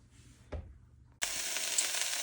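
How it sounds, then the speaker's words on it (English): Loud, steady sizzling of onions and peppers frying in a hot pan for taco meat, starting abruptly after a quiet moment with a brief clatter, then hissing continuously. "the pan is really hot. You can hear it sizzling"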